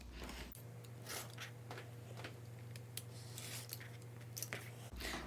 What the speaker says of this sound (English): Now I'll spin my template around and cut the bottom part here.